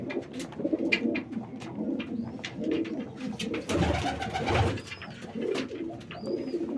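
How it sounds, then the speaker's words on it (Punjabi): Pigeons coo in a loft, with soft repeated throaty calls layered over one another, close and steady, among light rustling and a few faint chirps. "ਬਹੁਤ ਹੀ ਵਧੀਆ ਕਬੂਤਰ ਜੀ"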